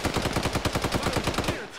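Rapid machine-gun fire in the Arma military shooter, one sustained burst of tightly spaced shots lasting about a second and a half before stopping abruptly, loud and close with no voices.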